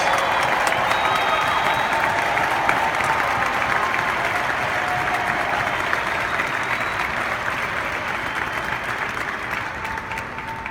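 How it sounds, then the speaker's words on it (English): An audience at a motivational speech applauds and cheers military veterans as they stand, a dense, sustained wash of clapping and crowd noise that fades slightly toward the end. "Please give them a round of applause."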